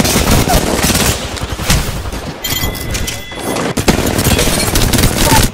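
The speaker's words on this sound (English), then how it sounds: "I am taking fire, friends." Apex Legends gunfire: rapid automatic bursts crackle loud and close in dense volleys, with a brief lull midway before heavy shooting resumes, and a player's voice cuts in briefly.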